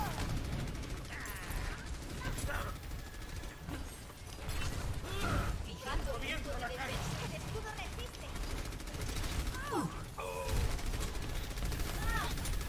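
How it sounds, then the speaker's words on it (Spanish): Rapid bursts of gunfire from the video game Overwatch crackle through a dense, busy mix, with voices talking over the shooting throughout. "Es un juego de disparos."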